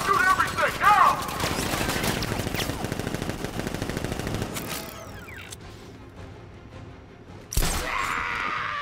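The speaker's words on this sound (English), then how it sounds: "Guards! Open fire! Shoot everything!" Rapid machine-gun fire and sustained fusillades from guards in Batman Arkham Knight rattle loudly for several seconds, joined by mechanical clanks and ratcheting, then fade to quieter game ambience before a sharp burst returns.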